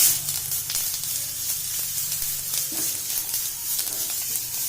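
Steady sizzling of fenugreek and cumin seeds frying in hot oil for a tempering, a broad hiss with faint crackles throughout, close and fairly loud, no talking.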